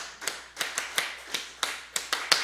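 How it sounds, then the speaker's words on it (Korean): A church congregation at a Wednesday worship service claps in a quick series of about nine or ten sharp, evenly paced claps, fairly faint and slightly distant in a quiet room. "자 박수 10번 시작"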